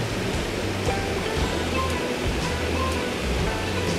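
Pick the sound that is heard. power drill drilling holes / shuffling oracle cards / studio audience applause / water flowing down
water flowing down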